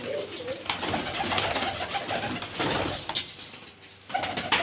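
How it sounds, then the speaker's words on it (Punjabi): Pigeons coo in soft, repeated murmurs against steady background noise, the calls fairly close and continuous throughout. "ਇੱਕ ਵੱਡਾ ਕਬੂਤਰ ਇੱਥੇ ਉਹ ਖੜਾ"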